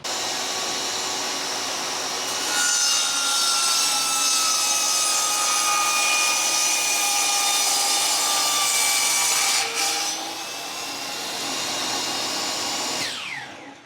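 Power saw cutting a thin quarter-inch trim off a wooden piece to square it for a shutter lamp, a loud steady whine with shifting pitch under the cut, running about ten seconds before spinning down.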